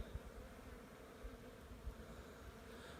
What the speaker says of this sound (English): Can you guys hear the bees?